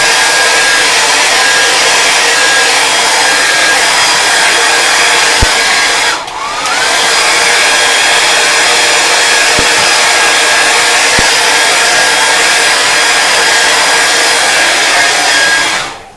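Hair dryer blowing on wet paint, a steady loud whooshing roar that runs continuously with one brief dip and a few faint knocks, no voices.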